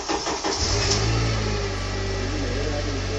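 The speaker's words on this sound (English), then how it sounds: "we got the engine started" A Honda CR-V with a freshly swapped engine cranks briefly and catches, settling into a steady, loud idle with a low droning hum close to the microphone.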